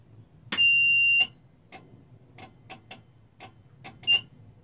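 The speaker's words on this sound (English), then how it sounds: "just to make sure that the alarm's still working." A UV filter's warning alarm, tested by disconnecting the bulb, gives a steady high electronic beep of about half a second, then a short repeat chirp near the end, with faint clicking between.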